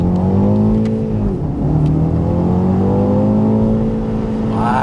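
A BMW X2 xDrive M35i engine revs hard at high RPM, a loud continuous drone whose pitch dips briefly mid-way as if through a gearshift, then climbs steadily again, close and sustained without talk.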